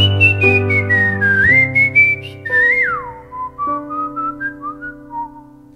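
A melodic tune is whistled clearly and prominently in a sung performance at Musicultura 2008, gliding over sustained instrumental chords.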